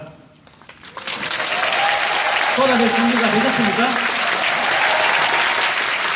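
A rally crowd at a Busan social-welfare demands event before the 6.13 local elections breaks into loud cheering and applause after a speaker's question, swelling within a second and then staying full and roaring with shouts throughout.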